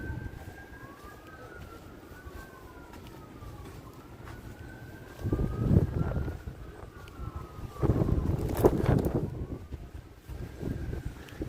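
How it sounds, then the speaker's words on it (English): Police sirens wail through a Brooklyn nor'easter at Sheepshead Bay, a steady rising-and-falling tone running the whole time over heavy wind rumble and rain, with louder gusts buffeting the microphone partway through. "Lots of sirens from the police activity in the area."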